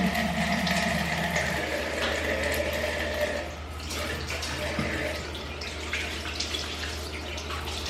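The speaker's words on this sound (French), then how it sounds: "je rince à l'eau tiède" Lukewarm water runs and splashes steadily as a face is rinsed after a scrub, close and fairly loud, with a brief shift midway.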